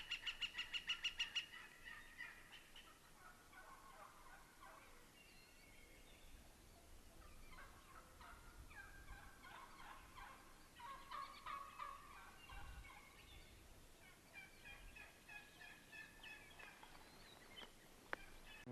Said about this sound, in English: we could hear a couple turkeys right over this knoll from us